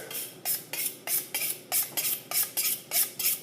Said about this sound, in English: So I'm sharpening my knife because I want it sharp.